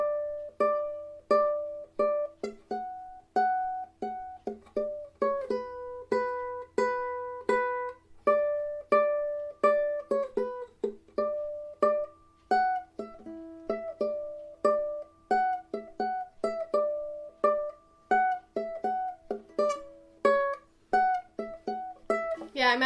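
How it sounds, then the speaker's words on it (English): Ukulele playing the high part of a song, a steady run of bright plucked notes and strummed chords at a slow, even pace, close and clear with no talking. "All of the high ukulele part together will sound like this."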